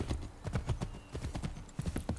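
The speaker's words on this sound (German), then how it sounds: "So, da kommt mein Pferd." Horse hooves in the video game Assassin's Creed 3, a quick run of close clip-clop beats in steady rhythm, clear and fairly loud throughout.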